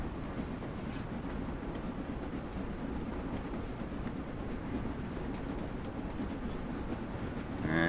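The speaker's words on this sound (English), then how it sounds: "We're basically waiting for the back of the train to pass." Train in the Train Sim World 2 game passing on the Liverpool Lime Street to Chester line, a continuous rumbling roll with faint rhythmic clatter, steady and fairly close throughout.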